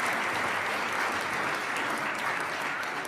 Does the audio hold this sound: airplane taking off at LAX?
no